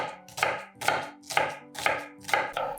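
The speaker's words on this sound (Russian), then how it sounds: "И мелко нарезаю 1 репчатую луковицу." A knife chops a yellow onion finely on a cutting board, with about six crisp, even strokes at a steady half-second rhythm, close and clear with no voices.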